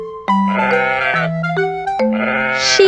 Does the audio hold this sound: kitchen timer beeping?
no